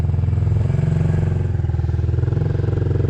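Motorcycle engine revving under throttle on a learner's first ride, a close, steady mid-pitched drone that swells slightly as the throttle opens.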